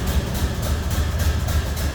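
A 1929 Ford Model A Roadster engine idling just after a cold start, a low, steady chugging rumble with a soft rhythmic pulse, close by and continuous with no voices.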